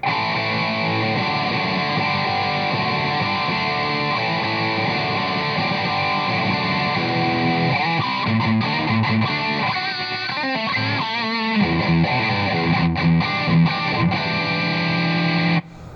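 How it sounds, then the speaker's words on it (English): An electric guitar plays through a Marshall CODE modeling amp set to a Plexi preamp into a 100-watt Marshall Classic power amp model and a 4x12 Greenback cabinet with slight reverb, loud crunchy chords and riffs sustaining throughout before an abrupt stop. "A Plexi preamp model into a 100 watt Marshall Classic power amp model, which is the L34s, into a 4x12 cabinet loaded with greenbacks"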